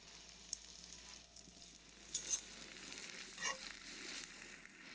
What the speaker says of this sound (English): we just need to saute the carrots more